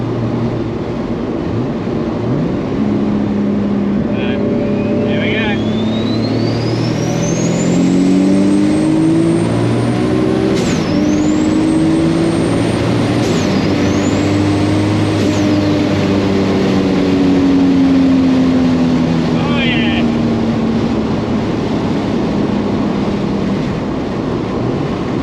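A turbocharged car with a Precision 7675 dual ball bearing turbo pulls hard from 100 km/h through third and fourth gear. The engine drones loudly and rises in pitch, with a sharp turbo whistle and brief dips at each gear change.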